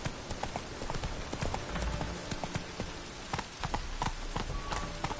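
Roach the horse gallops in The Witcher 3, with a steady, rapid clip-clop of hooves, loud and close, over a constant layer of ambient noise.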